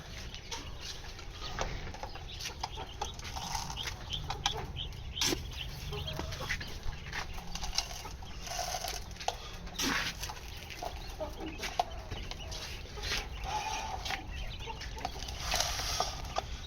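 Quail chirp and call repeatedly in short bursts, fairly faint, with scattered scratching and fluttering noises around them.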